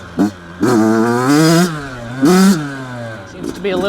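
Close by, a new Yamaha YZ85 dirt bike under carburetor diagnosis for rich running and plug fouling gives two sharp, loud throttle blips that climb in pitch and settle back to a steady idle between them.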